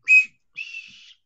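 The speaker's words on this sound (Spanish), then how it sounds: "Un silbato." Two high whistle blasts close by: a short sharp toot, a brief pause, then a longer steady blow, with silence around them.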